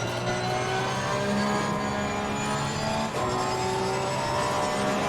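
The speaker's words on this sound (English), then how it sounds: "we got a car coming out of the pits in front of me" Race car engine in Assetto Corsa Competizione, a car accelerating out of the pit lane, a loud steady drone with rising engine tones that runs throughout.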